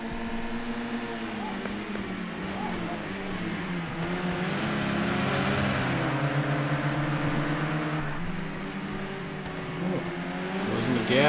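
Race cars roar around the oval at Indianapolis in a dense, continuous blend of engine noise. Pitches shift as the cars jostle and pass one another, with no clear gaps.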